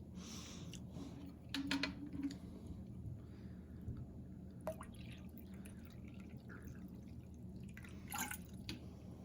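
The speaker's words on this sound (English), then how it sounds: "I'm gonna add some more water to this." Water trickles and drips into a container of instant soup in a quiet room, with scattered splashes and small clinks along the way.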